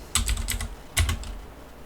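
Computer keyboard keys are pressed while working in PLC software, a quick close burst of clicky taps followed by a second short cluster of presses in a quiet room.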